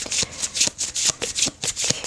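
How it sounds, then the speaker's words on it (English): Steampunk Tarot cards riffled in a light shuffle, a close, crisp series of quick rhythmic flutters about every quarter second, with no voices. "Okay, just do a light shuffle."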